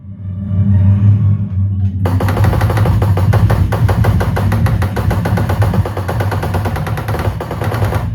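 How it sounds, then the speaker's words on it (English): Rapid, loud machine gun fire bursts from a Jurassic Park edition BarTopShooter Deluxe arcade shooter, a steady rattling stream of shots after a low rumble, close and dense throughout. "Boom, boom, boom, boom, boom, like a real machine gun"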